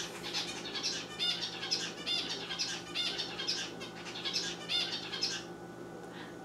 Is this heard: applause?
no